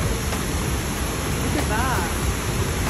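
Steady roar of the La Paz waterfall in Costa Rica, a loud, constant rushing wash of falling water close by, with a faint voice briefly under it.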